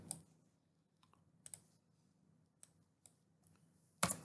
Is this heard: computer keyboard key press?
yes